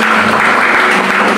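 Congregation applause at a church worship service held in a Jakarta apartment building, a loud, continuous wash of clapping with a faint sustained tone underneath, lasting only a moment.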